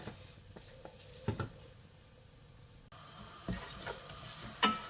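Whole cumin and dry coriander seeds fry in a pan with a faint, steady sizzle, broken by occasional stirring scrapes and light knocks of the spoon.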